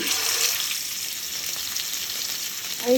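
Chicken frying in hot oil, a steady bright sizzle heard close up, fading slightly midway, with a short clunk at the end.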